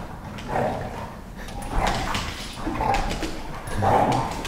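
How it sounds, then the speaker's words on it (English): Dogs playing indoors, giving short whining yips and playful growls in four brief bursts, fairly close and moderately loud against a low background hum. "our dogs are beginning to play here"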